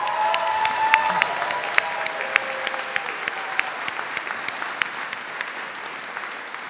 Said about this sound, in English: thank you for that big round of applause to all the folks from the Dean's Office